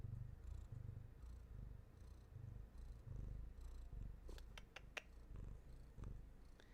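A cat purrs close up in a slow, rumbling rhythm, with a few faint clicks and rustles partway through.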